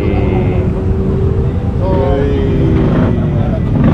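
A Hunter 350 motorcycle engine idles with a steady low rumble that holds evenly throughout, and a voice speaks faintly over it partway through.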